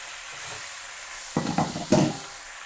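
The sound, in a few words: macaroni being stirred and cooked in a pan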